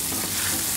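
A spoon stirs carbonara sauce with garlic and pepper around a hot frying pan, giving a brief, dense sizzle and scraping close up with no voices.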